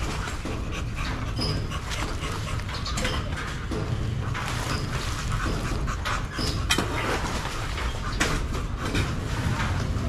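Neglected dogs panting close by in a steady rapid rhythm, with pigeons cooing in the background and an occasional faint whimper.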